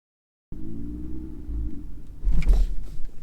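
A manual BMW M2 with a 365 hp engine stalls in a parking lot: after silence, a low, loud engine rumble shudders and lurches, then breaks into a heavy jolt and clunk near the end.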